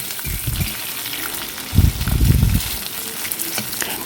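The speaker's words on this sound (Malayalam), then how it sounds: "ഇന്ന് ഉറക്കി വെച്ചിരിക്കുന്ന നെല്ലിക്ക ഇട്ടു വെളുത്തുള്ളി ഇട്ടു നന്നായിട്ടൊന്ന് ഇളക്കാം" Soaked gooseberries and garlic are stirred in a frying pan, giving a loud sizzling hiss with bursts of scraping and sloshing as the spoon turns them, close and with no voices.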